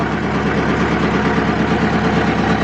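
A small ride-on tractor engine idles steadily and loudly, a continuous rhythmic chugging rumble with no other sounds.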